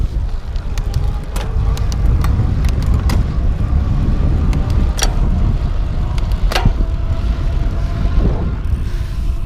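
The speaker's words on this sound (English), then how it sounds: "I'm gonna switch through some of the gears real quick here." A PESU Monster 250W electric bike is ridden while shifting through its gears, producing a steady rushing drone with a series of sharp mechanical clicks and clunks from the drivetrain.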